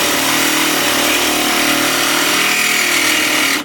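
A loud, steady grinding whine of a power tool cutting through a catback exhaust pipe for a Nissan 370Z, continuous and close, cutting off abruptly at the end.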